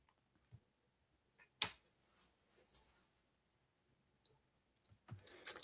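Computer mouse clicks on the share button in Google Drive: a few sparse, crisp clicks spaced apart over near silence, with one louder click and a small cluster at the end.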